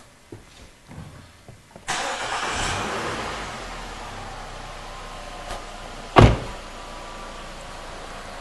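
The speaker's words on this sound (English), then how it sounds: "So I'm going to start the car right now." A car engine cranks and catches after a few soft clicks, then settles into a steady idle, with a sharp knock or door-like thud shortly after, close and clear.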